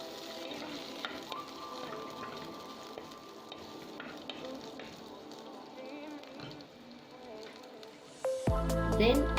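Curry leaves and chopped fresh lemongrass crackling in hot oil for a spicy Sri Lankan chicken curry, a moderate sizzle with stirring that turns into a sudden louder burst of spattering near the end.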